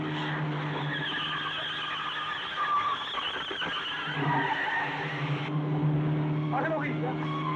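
A car slips and skids in a Hindi film scene, with a sustained tire squeal and engine noise under voices, plus a sharper squeal toward the end.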